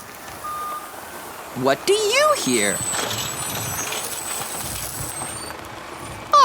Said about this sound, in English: The dump truck just dumped a huge pile of dirt on the tracks for the monster trucks to drive on